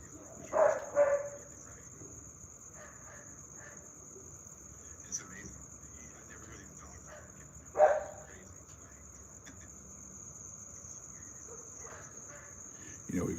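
Dogs bark a few times at night, distant and sparse, over a steady chorus of crickets, with faint voices in the background.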